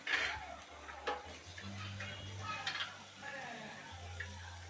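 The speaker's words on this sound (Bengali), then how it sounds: "কড়াইতে আমি তেল দিয়ে গাজর, বরবটিগুলো দিয়ে দিলাম।" Carrots and green beans fry in oil in a kadai, giving a soft, steady sizzle with faint clinks and stirring, moderately close and fairly quiet throughout.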